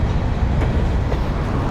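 Train cars roll past on rails in Mexico with a loud, steady rumble and faint clacking wheels, heard close with no talk.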